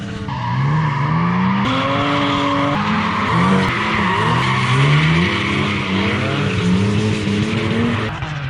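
Drift training session with cars sliding sideways, loud continuous tire squeal layered over revving engines whose pitch rises and falls repeatedly, close and sustained throughout.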